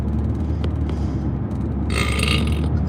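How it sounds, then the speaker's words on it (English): A single loud, drawn-out burp rumbles close to the mic for several seconds, with no talk over it. "I think that was the first burp of this live."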